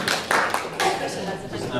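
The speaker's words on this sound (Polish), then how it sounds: "duże brawa, proszę Państwa, bądźmy sprawiedliwi" A crowd claps in a dense burst of applause, steady and fairly loud throughout the short stretch.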